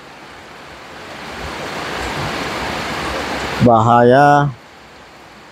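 Heavy rain falls outside a house as a dense, steady hiss of broadband noise. It builds gradually, then a voice briefly speaks close over it, and the rain continues quieter afterward.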